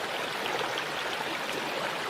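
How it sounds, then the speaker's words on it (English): A babbling brook flowing outdoors, a steady, full broadband rush of water close by with no pauses, alone without talk. "You can hear the babbling brook"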